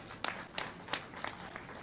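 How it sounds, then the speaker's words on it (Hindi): An audience at a political rally in Bina claps in applause to welcome the chief minister, a steady patter of many hands with a few sharper claps standing out, moderately loud and continuous. "एक बार सभी लोग ताली बजाकर स्वागत करें।"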